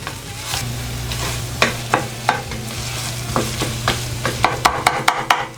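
Tomato paste sizzles and fries in a pan for Southern red rice, with a steady hiss underneath and a series of sharp scraping stirs that quicken toward the end, close and fairly loud, with no talking.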